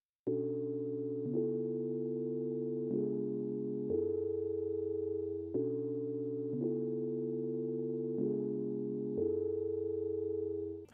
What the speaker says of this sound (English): basically just a sine wave and I added some spring reverb